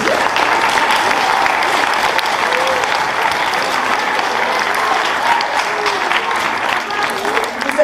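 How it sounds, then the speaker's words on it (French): Sustained audience applause fills a hall at a Rotary Savoir Lire twentieth-anniversary afternoon event, dense and steady from start to finish with faint crowd voices mixed in. "je voudrais qu'on vous applaudisse"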